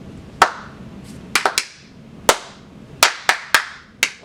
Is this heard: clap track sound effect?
yes